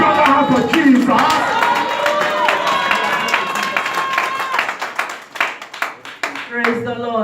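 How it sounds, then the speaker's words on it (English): A church congregation claps during a Sunday live service, loud rapid clapping mixed with cheering and raised voices, thinning toward the end as a voice comes through. "Can somebody clap their hands for Jesus?"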